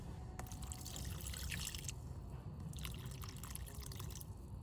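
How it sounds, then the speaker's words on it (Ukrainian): Water mixed with root stimulant pours and trickles onto soil around a hydrangea cutting in two bursts with a short pause between, splashing and dribbling close by against a low background hum. "І зараз добре проливаю водою з радіфармом."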